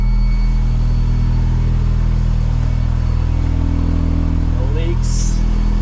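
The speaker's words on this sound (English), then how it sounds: "It's a smooth idle." A Mazda RX-7 rotary engine idling nearby, a loud, steady low rumble with a smooth even pulse, with a short chirp or squeak near the end.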